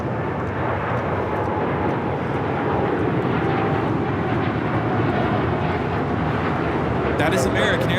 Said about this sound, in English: That is American Airlines Flight 27 taking off to Tokyo Haneda on the 787-9 Dreamliner.